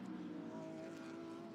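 Mercedes GT race cars battling on the Oschersleben circuit during an ADAC GT Masters race, a faint, steady engine drone heard from a distance with no talk.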